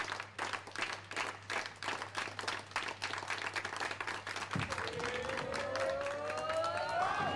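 Audience applause at a women's bowling cup final: rhythmic clapping from a crowd for several seconds, then a bowling ball rolling down the lane with a rising rumble, all fairly faint and distant.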